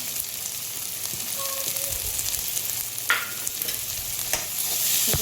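Onion and tomato soften in hot oil with salt, sautéing with a steady, moderate sizzle and a few scrapes of a spoon, the frying swelling slightly toward the end; no talking.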